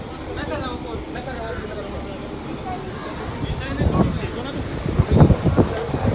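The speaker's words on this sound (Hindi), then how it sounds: "अब बहुत ठंडी हवा चल रही है।" Cold wind blowing outdoors around a temple in India, a steady broadband rush running throughout with gusts buffeting the microphone, while people talk over it.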